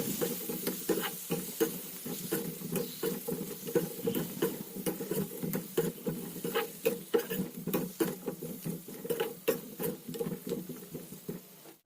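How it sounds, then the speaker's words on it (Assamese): Pieces of pre-boiled potato frying in a pan with crab make a steady, dense crackling patter of oil spatter that runs without pause, close and moderately loud, with no voices. "আৰু এতিয়া দিছোঁ আগতে বইল কৰি লোৱা কেইটুকুৰামান আলু। এইখিনি দি আকৌ ভাজি ল'ম।"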